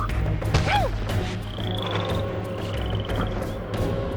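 A frog in the video game Soul Reaver 2 croaks in low, repeated bursts over busy game ambience, with a short swooping call near the start and faint whistling tones.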